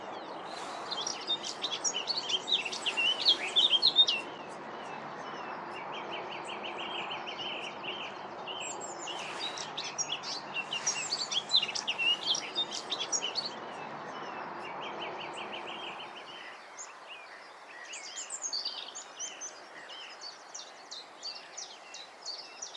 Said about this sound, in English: I think I hear a blackcap. Yes, that's definitely a blackcap